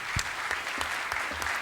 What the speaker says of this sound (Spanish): Un fuerte aplauso para el doctor Giovanni Fletcher.